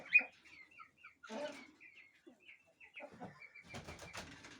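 Poultry chickens cluck and coo softly around a fake egg placed among them, scattered bird calls with short gaps, near and fairly faint, ending in a louder burst of noisy clucking.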